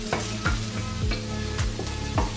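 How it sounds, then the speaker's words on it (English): Crushed garlic sizzles in a pot while a utensil stirs through it, steady frying hiss under a regular scraping rhythm of about five strokes, close and fairly loud, with no talk. "So I'm just going to add the garlic. Okay, just give that a stir."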